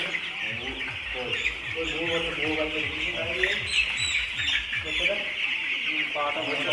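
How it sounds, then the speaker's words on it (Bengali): Twelve-day-old chickens kept on a ground floor cluck and cheep continuously and close by, with overlapping calls over a constant background hiss. "এই ছিল হচ্ছে আমাদের মুরগির আপডেট"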